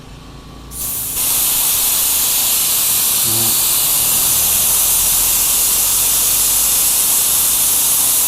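A used two-cylinder air compressor with a 148-litre tank and a 2-horsepower motor is tested. A quiet hum gives way within the first second to a loud, steady rush of hissing air that continues without a break.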